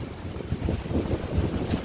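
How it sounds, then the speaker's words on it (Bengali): Heavy rain falls outside with gusting wind, a dense, steady roar of rushing noise with low buffeting swells. There is no talk over it. "বাইরে হচ্ছে তুমুল বৃষ্টি"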